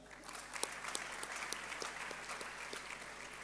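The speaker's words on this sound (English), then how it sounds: "Please applaud Mrs. Patience Labi" Audience applause at a medical school's 50th anniversary celebration, a quiet distant spread of steady clapping from a hall crowd, heard alone over a low electrical hum.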